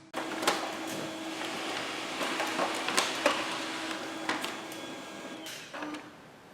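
An inkjet-style printer runs a job, printing a circuit board design onto photo paper: a steady mechanical whir with repeated clicks and carriage shuttling thuds, close and fairly loud, with no voices.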